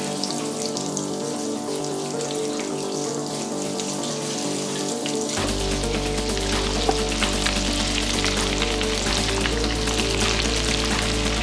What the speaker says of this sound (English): It's frying pretty intensely.